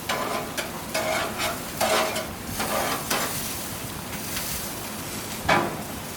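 Hot dogs sizzle on an outdoor grill in cold, rainy weather, a steady crackling fry with a few sharper bursts from flipping close by.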